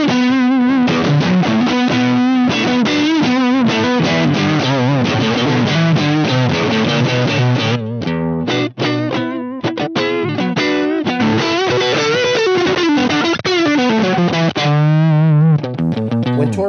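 Electric guitar played through a TC Electronic VoiceLive 3 multi-effects unit with subtle tube amp modelling, giving a loud, continuous, distorted sound with sustained chords and lines and a brief dip midway; no talking.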